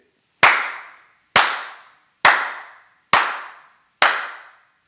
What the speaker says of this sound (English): So I'm gonna do a quick clap test